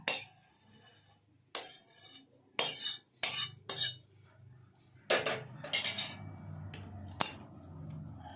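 Amla (Indian gooseberry) being crushed into a coarse powder, heard as a series of sharp metallic clinks and knocks in irregular bursts, some in quick pairs, with quiet gaps between.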